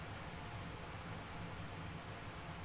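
Rain falls in a modded Minecraft overworld, a faint, steady hiss of droplets with no other sounds or voices.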